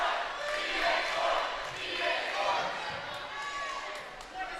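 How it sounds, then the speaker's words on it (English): A volleyball crowd at a high school Class S quarterfinal in a gym yells a chant together, a sustained roar of many voices rising and falling, with an announcer talking over it. "Crowd yelling EA Sports."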